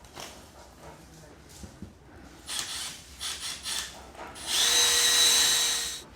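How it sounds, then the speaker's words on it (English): A small power drill whirs in short bursts, then runs in one longer steady whine, close up, with some breathing and handling noise. "Got my little baby drill"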